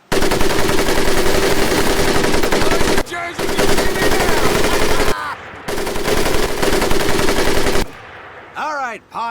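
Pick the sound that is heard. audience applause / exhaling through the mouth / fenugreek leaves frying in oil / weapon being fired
weapon being fired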